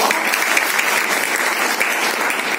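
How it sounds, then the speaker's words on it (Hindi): Applause at a motivational business meeting, a dense steady round of clapping from a crowded audience that holds at an even level throughout. "एक बार जोरदार ताली"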